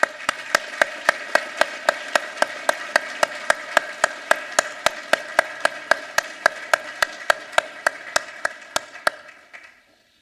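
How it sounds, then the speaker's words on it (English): Audience clapping at a firefighter trainee class graduation ceremony: sharp claps in steady, even unison, about two or three per second, ringing through the hall for nine seconds before stopping abruptly. "Give them a round of applause."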